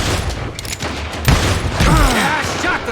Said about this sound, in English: I shot the son of a bitch!